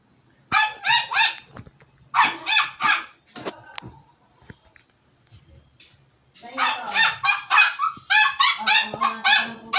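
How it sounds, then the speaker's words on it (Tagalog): A dog barks repeatedly in quick, loud bursts of several yaps each, close by, with short pauses between the volleys. "Ang ingay ng aso Ito."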